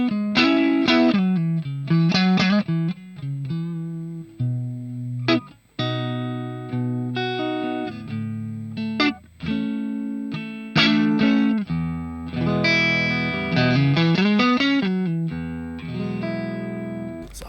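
Electric guitar played through a Hotone Ampero 2 preset cloning a Marshall MK II SV20H set to a jumped, cleanish tone, with strummed chords and single notes in a loose, stop-start rhythm with light breakup.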